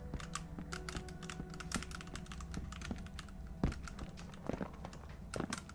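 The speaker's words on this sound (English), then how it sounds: "this is a very noisy keyboard" Someone types fast on a new, very noisy computer keyboard, close to the mic. The keys give quick, uneven clacks, with a few heavier thunks from harder strikes.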